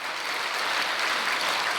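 Applause from a church congregation at a winter mountain revival gathering, steady and dense throughout, at moderate distance with no voices over it.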